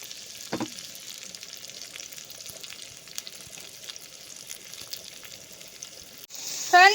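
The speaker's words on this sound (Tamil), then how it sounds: "இப்போ இதை நல்லா வதக்கிட்டு நம்ம பருப்புக்குள்ளே கொட்டிடலாம்" A tempering for dal sautéing in a pan, a soft continuous sizzle with a brief clatter near the start and a louder burst of frying at the very end.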